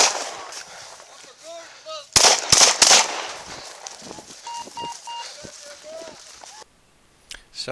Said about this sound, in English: you discharged Uh-huh. your service pistol at the side of a trailer